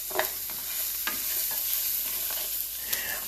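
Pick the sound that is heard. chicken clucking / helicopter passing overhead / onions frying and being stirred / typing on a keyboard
onions frying and being stirred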